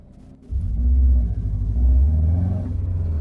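A Subaru STI's engine drones loud and steady on a race track, a low rumble that steps up suddenly about half a second in and holds, with no one talking.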